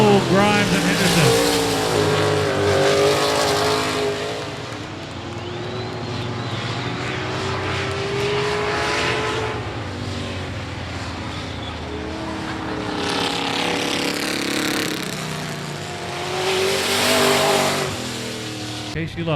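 Stock race cars roar past the start/finish line at I-37 Speedway, engine noise swelling and fading in waves as the pack passes, with an announcer talking over the rumble.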